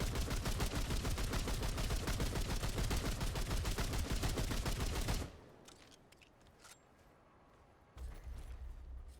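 Rapid automatic gunfire from guns in the video game Remnant 2, a dense unbroken burst for about five seconds, then a quiet stretch with a few scattered clicks before a low rumble returns near the end.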